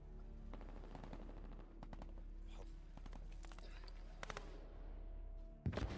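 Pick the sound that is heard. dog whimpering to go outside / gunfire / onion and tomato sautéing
gunfire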